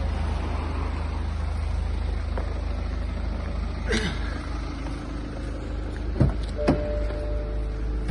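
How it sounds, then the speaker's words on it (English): Electric folding roof of a BMW 220d M Sport convertible closing, a steady low motor hum from the stationary car with a couple of brief mechanical clicks and thunks near the end, no talking. "I'll pop the roof back up once I've sat in the driver's seat"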